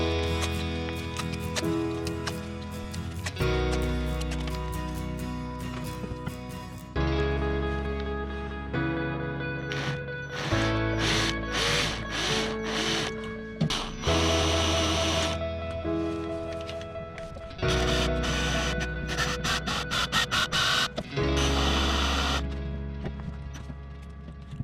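A drill bores out a broken bolt during an MG TF 135 engine and subframe rebuild, running in repeated loud bursts with short pauses and stuttering bites as the bit catches the metal.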